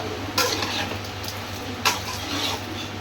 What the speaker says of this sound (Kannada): ಅದನ್ನು ಚೆನ್ನಾಗಿ ಫ್ರೈ ಮಾಡ್ಕೋಬೇಕು.